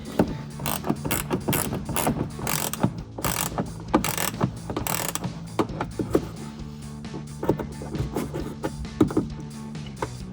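A ratchet wrench clicks rapidly while loosening a fog light bolt on a 2012-2023 Toyota Tacoma, bursts of close, sharp ratcheting in uneven strokes across ten seconds with no talking.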